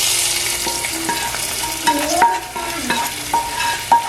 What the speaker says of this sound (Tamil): இப்போ இதை வந்து தாளித்து வச்சுருக்கிற இதை வந்து இப்போ இந்த பூசணிக்காய் கறிக்குள்ள போடுவோம்